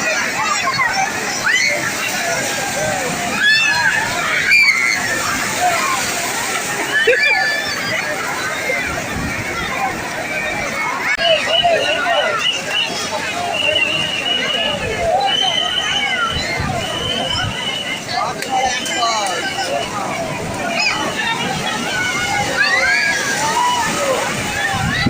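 Sea water at Digha beach sloshes and splashes continuously and loudly nearby, mixed with a constant babble of voices and people talking close by.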